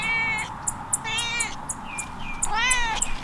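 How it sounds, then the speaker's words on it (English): A cat meows repeatedly in a backyard garden, several clear, fairly close calls spaced over a few seconds with soft outdoor ambience and light clicks behind. "And a cat who is always wanting to be the center of attention."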